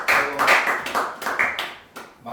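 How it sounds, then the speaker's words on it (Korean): A small class of middle school students claps together at the end of a math lesson: a brisk, close, slightly uneven patter of hands lasting a couple of seconds. "박수"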